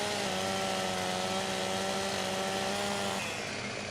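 Chainsaw cutting down trees in Farming Simulator 17, a loud, steady engine drone with a constant pitch that holds for several seconds and then drops off slightly near the end.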